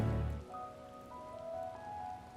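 Soft, steady rainfall in Final Fantasy XIV: Endwalker, a gentle even hiss beneath sustained tonal game music, with a low thud at the very start.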